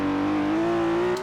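A BMW E34 M5 engine in Forza Horizon 4 holds a loud, steady rev with its pitch creeping upward, a smooth sustained game-engine tone with no speech.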